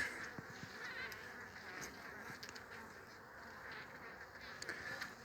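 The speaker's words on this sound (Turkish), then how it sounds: "Bombus ve arıların mücadelesi atmaya çalışıyorlar." Honeybees at the hive scuffle with an intruding bumblebee, a constant close droning buzz with shifting pitch and scattered small clicks and bumps from the open hive.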